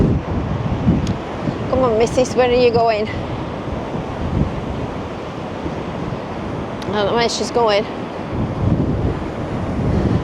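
Sea waves and strong wind on Blackpool beach on a blustery day, a steady loud roar of surf and gusting wind buffeting the microphone, while someone talks briefly over it.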